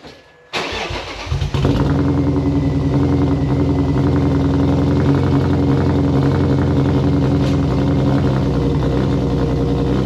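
A straight-piped BMW 328i E36 cold-starts after a brief crank, then settles into a loud, raspy, steady idle with a deep rumbling exhaust, close by and continuous with no talking.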